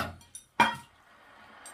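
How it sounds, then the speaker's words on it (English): A spoon stirs salt additions into sparge water, giving one sharp metallic clink and a few softer taps against the vessel, close and quiet. "Do a little bit of spoon around. Get them nicely stirred in."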